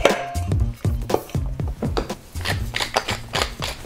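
Cooked pasta is stirred and tossed with arugula pesto, giving close, rhythmic wet clacks and taps of a utensil against the bowl in quick irregular bursts, with no voices.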